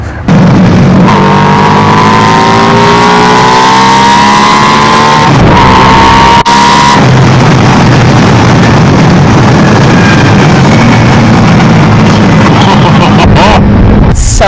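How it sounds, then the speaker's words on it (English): A Buell Super Cruiser motorcycle engine revs and accelerates while being ridden, a loud rising drone through the gears with heavy wind rush over the microphone and a brief drop in pitch at a shift. "It's definitely one of the fastest bikes I've ever ridden."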